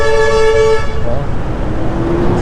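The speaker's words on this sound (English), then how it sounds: "Traffic here at the moment is a little bit busy, isn't it?" Busy road traffic with a car horn tooting loudly at the start, then a steady roar of passing vehicles, close and continuous with a voice mixed in.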